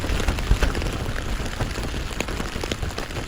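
Steady rain and gusting wind batter the walls of a Lanshan tent, a dense, continuous wash of patter and buffeting that stays loud and close throughout with no voices.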